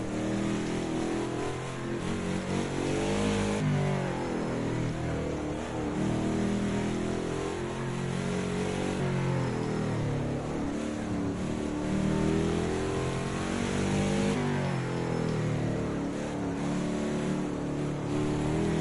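Modern NASCAR stock car lapping the Nordschleife, its loud V8 engine roaring continuously with shifting revs, rising and falling through corners up close, with no talk over it.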